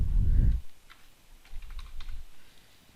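Password keys tapped on a computer keyboard, a short burst of light clicks following a brief low thump, soft and close with no voices.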